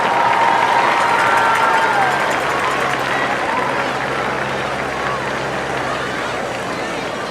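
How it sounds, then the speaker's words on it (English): A large crowd at a high school varsity football homecoming game applauds and cheers, a broad, sustained wash of clapping and crowd noise from the stands that slowly eases over several seconds. "Please give these lovely ladies a round of applause."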